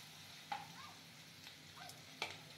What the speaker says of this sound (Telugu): ఆనియన్స్ కూడా కొంచెం లైట్గా ఫ్రై అవ్వనివ్వండి